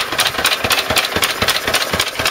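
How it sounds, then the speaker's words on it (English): A 1929 Lister A stationary engine running on old TVO and driving a sawing rig thumps steadily at a slow, regular beat, each firing stroke distinct, close by and fairly loud with a metallic clatter over it. "at the moment, got the old sawing rig running"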